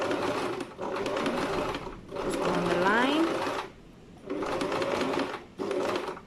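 A sewing machine runs in bursts while stitching fabric gathers with a reverse stitch, its close mechanical whir starting and stopping several times with short pauses between runs.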